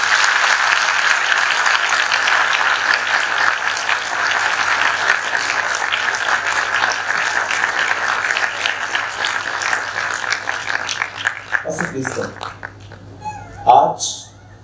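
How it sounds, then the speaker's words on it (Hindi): A church congregation at a Hindi-language Christian service claps together for Jesus, a dense sustained roar of applause that thins into scattered claps near the end, with faint voices calling out. "क्या आप सब मिलकर यीशु के लिए ताली बजा सकते हैं?"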